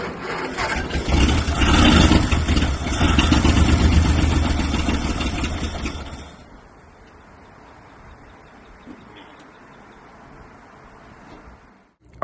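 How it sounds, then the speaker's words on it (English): A 1936 International C-1 truck engine runs with a loud rough rumbling clatter for about six seconds, then cuts off, leaving quiet background hiss. "So we know this motor runs."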